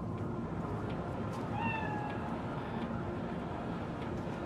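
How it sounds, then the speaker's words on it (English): A cat meows in a Cyberpunk 2077 scene, one short rising cry in the middle over a steady, dense ambient city hum. "Chill. Just a cat."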